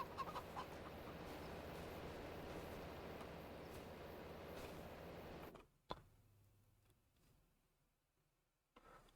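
Chickens clucking inside a video game, soft scattered clucks over a steady game soundscape that drops out abruptly partway, leaving near silence with a couple of faint knocks.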